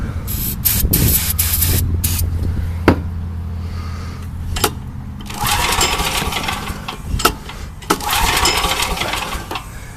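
Starting fluid hisses in several short, close spray bursts into a flooded small engine, with clicks and handling noises between them and no talk.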